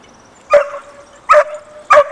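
Two search dogs bark during a search: three sharp, loud barks spaced about a second apart, each trailing into a brief tonal whine.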